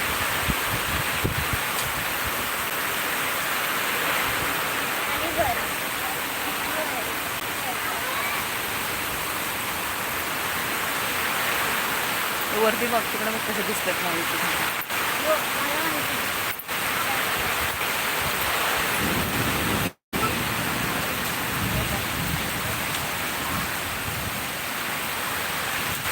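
A steady, dense roar of heavy rain and wind fills the whole stretch, with people talking now and then over it.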